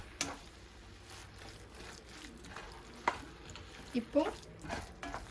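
Kothu parotta being mixed with chicken gravy in a pan on a high stove gives faint, soft stirring and scraping with a few louder spatula knocks and a light sizzle. A voice briefly speaks once in the clip.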